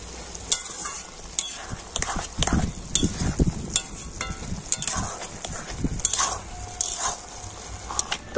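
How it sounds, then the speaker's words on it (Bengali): Boondi for motichoor laddu simmers in sugar syrup, giving a soft bubbling sizzle broken by clinks and scrapes of a stirring spoon close by, with no talk. "আর চিনির শিরার মধ্যে তো এই বোঁদেগুলো আমি 5 মিনিট একটু এইভাবে ফুটিয়ে নেব"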